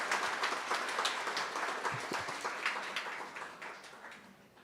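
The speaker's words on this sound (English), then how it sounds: "A big round of applause for our" Applause at a canine support teams commencement ceremony for the 2022 graduating teams: moderate clapping from a seated audience, steady at first and gradually thinning and fading toward the end.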